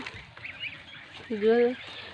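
Domestic geese kept on a lychee farm give a single nasal honk near the end, moderately close, with softer background noise and faint talk before it.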